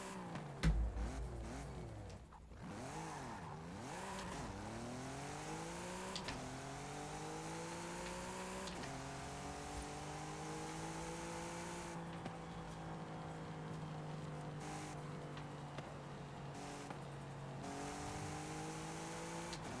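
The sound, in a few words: Infiniti Q60 car engine revving in video game Forza Horizon 5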